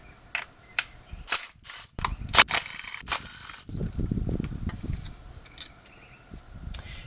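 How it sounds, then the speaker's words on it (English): Mechanical ratcheting and clicking from hand tools loosening the ignition coil hold-down bolts on a 2005 Toyota Corolla's 1.8L 1ZZ-FE engine, with close bursts of sharp clicks, brief pauses and some handling noise. "Next we can loosen and remove these bolts that hold down the ignition coils."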